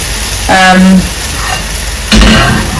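Banana pancakes fry in butter in a hot pan with a loud, steady sizzle, joined by two brief bursts of scraping or stirring against the pan.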